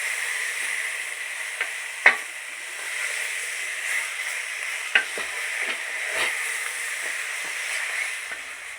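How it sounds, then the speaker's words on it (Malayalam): Chicken pieces sizzle steadily in a hot pan while a spoon stirs them, with a few sharp scraping clicks of the utensil against the pan over a constant frying hiss. "ഇനി ഇതിലേക്ക് നമുക്ക് ചിക്കൻ ചേർത്ത് കൊടുക്കാം. നന്നായിട്ടൊന്ന് ഇളക്കി യോജിപ്പിച്ചെടുക്കാം."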